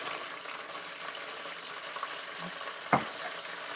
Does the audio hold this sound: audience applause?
no